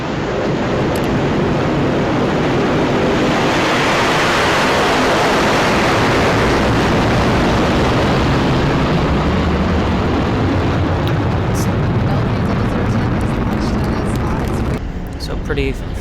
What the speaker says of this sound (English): Pretty flawless liftoff there.